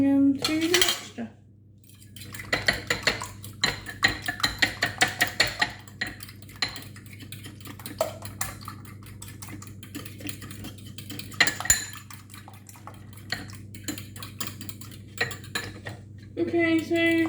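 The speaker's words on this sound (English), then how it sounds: "I'm giving them a good whisk now" Beaten eggs are whisked in a bowl for a strawberry and cream Victoria sponge, with rapid clinking and scraping strokes against the bowl in bursts and short pauses, close up.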